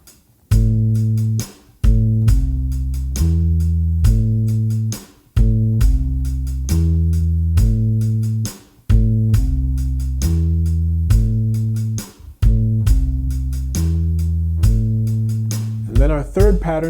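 Bass guitar repeats a minor triad pattern, root to third to fifth, in clear plucked groups of notes with short pauses between phrases, loud and close, played alone.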